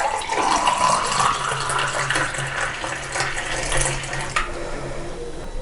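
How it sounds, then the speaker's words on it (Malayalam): Spiced Kerala-style buttermilk (sambaram) is poured into a glass in one steady stream of about five seconds. The pitch rises as the glass fills, then the pour tapers off near the end. "ഇനി നമുക്കിതൊരു ഗ്ലാസ്സിലേക്ക് ഒഴിക്കാം."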